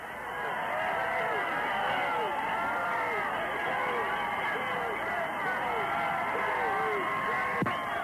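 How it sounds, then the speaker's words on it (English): A high school football crowd roars and cheers in a stadium for the Black Cats after a long touchdown run, a dense, steady wash of voices that stays loud throughout, with a brief thump near the end. "Listen to the Black Cat crowd."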